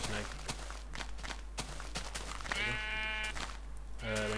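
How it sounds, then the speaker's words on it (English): A sheep in the Minecraft video game gives a wavering bleat, then a second begins, amid sharp clicking footsteps and game sounds, with a voice speaking faintly. "Hello, sheep."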